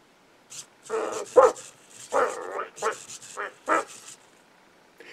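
A small EMO desktop robot gives a synthetic dog imitation, several short yappy barks and whimpers in an uneven burst, close and clear against a quiet room.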